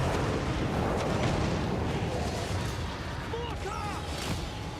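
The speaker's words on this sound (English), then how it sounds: "Mortar!" Mortar and artillery fire booming continuously in a Warhammer battle game, a dense rumbling barrage with shouted voices and small whistling effects over the din.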